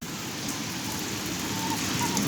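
Steady, close rain pours down during a family monsoon outing, a dense, even hiss of drops striking surfaces with no pauses.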